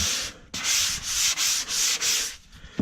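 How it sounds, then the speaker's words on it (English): A square-ended angled sanding sponge is dragged repeatedly along a drywall corner during flooded-basement repair, making five steady, close abrasive strokes in an even back-and-forth rhythm, with no talking. "if you put the square end in, and sand with the square end"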